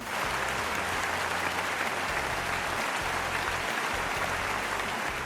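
Steady, dense applause for supporters of the Blender Development Fund fills the room at an even level throughout, with no pauses or talk breaking through.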